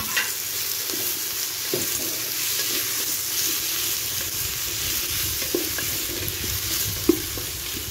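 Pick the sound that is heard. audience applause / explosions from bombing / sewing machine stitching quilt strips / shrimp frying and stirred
shrimp frying and stirred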